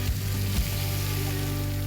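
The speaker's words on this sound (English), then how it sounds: "While Floyd cooks up the hapuka," Hapuka fish fries in a hot pan with a steady, dense sizzle, close and continuous, broken by a couple of brief low thumps early on.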